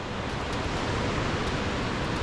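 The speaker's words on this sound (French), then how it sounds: "Il y a des cascades partout parce qu'on est à North Cascades." Waterfall in North Cascades, Washington, a dense steady roar of rushing water filling the whole clip, loud and unbroken with no voices.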